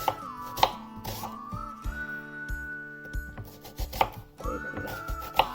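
Knife chopping half an onion on a board in a home kitchen, a quick irregular series of sharp taps close by, with faint clinks and a lingering tonal hum underneath.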